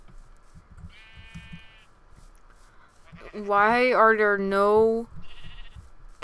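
A Minecraft sheep bleats loudly at close range, a long wavering cry lasting over a second, after a shorter fainter bleat, while a person talks over the game audio.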